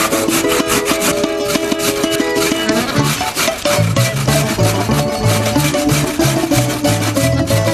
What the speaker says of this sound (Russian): Чистим морковь. И натираем ее на крупной терке.